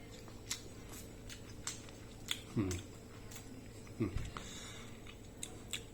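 Soft chewing of cooked Pandanus pyriformis fruit boiled about 30 minutes, with a few quiet bites and squishy mouth sounds over low background noise.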